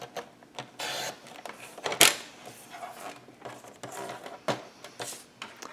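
Cardstock sliced on a paper trimmer for a Stamperia gift box, a sequence of short crisp cutting and sliding strokes, fairly close, with one sharper snap near the middle and no talking.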